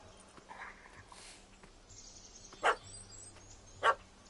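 A dog barks twice at a cat in The Witcher 3 video game, two sharp, separate yaps over a quiet outdoor ambience with faint background sounds.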